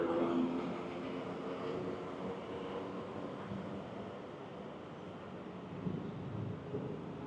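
Bangkok BTS Skytrain passing near the Pathum Wan intersection skywalk, a low, steady rumble and rushing hum held under city background, fairly distant and moderate in level.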